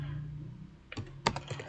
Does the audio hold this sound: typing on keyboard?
yes